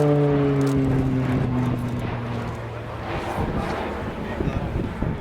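A Royal Air Force Tucano T1 turboprop flies a display manoeuvre at the Royal International Air Tattoo, its engine tone sliding down as it pulls away, with wind buffeting over the microphone and a commentator talking throughout.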